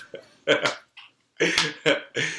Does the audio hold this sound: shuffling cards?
no